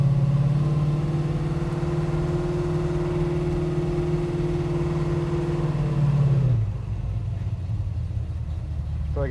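A steady engine of an XB Ford Falcon GS Hardtop coupe idles with a low hum, then sputters and drops off as it stalls, leaving quieter rumble behind.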